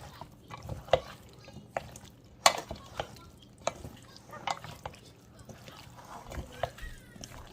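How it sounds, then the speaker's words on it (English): Chicken and potato pieces tossed with butter for a foil packet dinner make soft, irregular squelching and scraping stirring sounds, close and fairly quiet. "I'm just going to give this a mix here and get everything coated"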